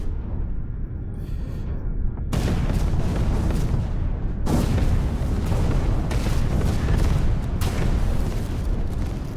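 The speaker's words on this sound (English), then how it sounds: "Oh, someone's shooting at me." Giant mechs trade heavy fire in the VR game Iron Rebellion, with loud, continuous booming cannon shots and explosions rolling in waves after a quieter opening, close and dense with no pause between blasts.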